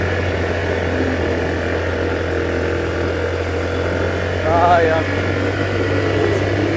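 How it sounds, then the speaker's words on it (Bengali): A vehicle engine climbs a steep hill road in first gear near Thanchi, holding a steady, loud, low droning hum throughout with a slight rise in strain near the end. "এক গিয়ার দিয়ে উঠতেছে খালি"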